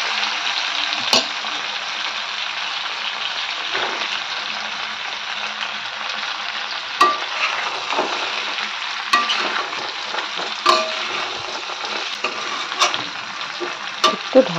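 Tomatoes and spices fry in a pan with a steady, close sizzle, broken by occasional stirring clicks and scrapes, with no voices.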